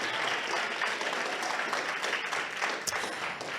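Audience applause at an outdoor jazz festival stage, a dense, steady wash of clapping from a crowd, heard fairly close for a few seconds with a faint voice underneath.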